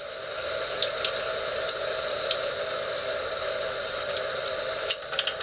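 Tap water runs steadily over a glass bottle that has been scored for cutting, a constant hissing stream with small splashy ticks and a few louder clunks at the end.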